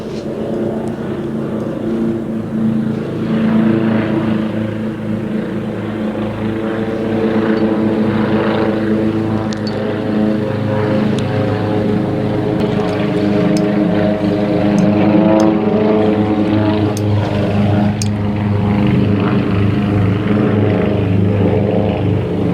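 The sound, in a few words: aircraft flying over in formation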